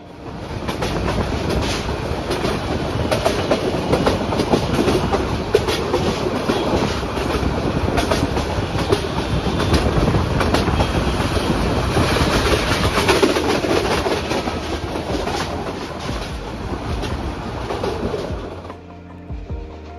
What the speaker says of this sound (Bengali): এই ঢাকা এলিভেটেড এক্সপ্রেসওয়েতে এই ট্রেন দৃশ্যটি আরও খুব সুন্দরভাবে দেখা যায়